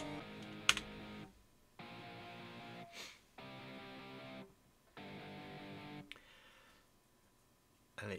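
Typing a command on a computer keyboard to reboot a Home Assistant server: bursts of key presses separated by short pauses, close and quiet, with a faint hum beneath.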